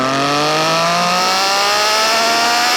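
A 2018 Triumph Speed Triple 1050 RS motorcycle accelerates hard in second gear, a loud close engine whine climbing steadily in pitch with no talk over it.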